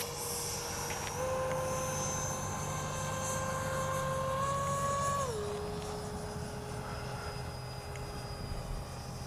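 An H-King Flycat V2 radio-controlled jet makes a low pass, a steady whining turbine tone that drops in pitch midway as it passes by, over constant outdoor background noise.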